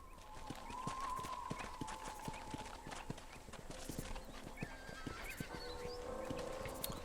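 Horses in the Red Dead Redemption video game, in all-black, all-brown and all-white coats, trot with steady clip-clopping hooves and an occasional whinny over continuous game ambience.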